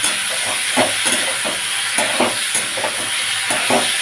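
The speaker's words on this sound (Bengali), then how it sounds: "সবজিগুলোকে ভেজে নেব।" Small pieces of potato, eggplant and bean fry in a pan with a steady, loud hissing sizzle. Regular stirring scrapes recur about twice a second over the sizzle.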